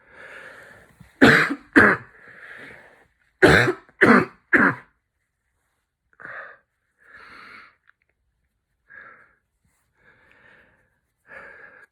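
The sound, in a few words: coughing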